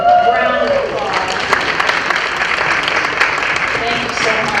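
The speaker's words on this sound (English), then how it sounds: "Let's please give them a round of applause." Conference audience applauding a sponsor, a full round of steady clapping from a large indoor crowd, with a voice speaking over it at the start.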